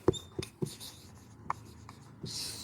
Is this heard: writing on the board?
yes